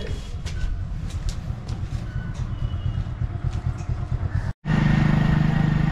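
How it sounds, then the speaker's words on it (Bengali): A motorcycle being wheeled out and started, its engine running with a steady, close low rumble that cuts out for an instant and then returns louder and smoother. "এই বাইক নিয়ে যাব, বাইকটা বার করি এখন।"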